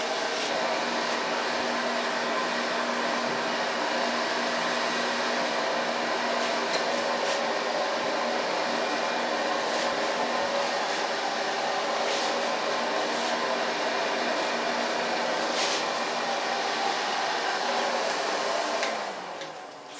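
A hair dryer blows steadily and close at gentle heat while drying hair during a pixie cut, a continuous whooshing roar with a faint motor hum that holds for the whole stretch before easing off at the very end.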